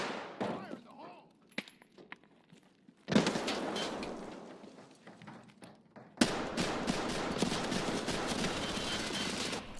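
A grenade blast and gunfire in the shooter game Escape from Tarkov arrive as two sudden loud booms, each followed by a sustained, crackling roar of noise after quieter rustling and scattered clicks.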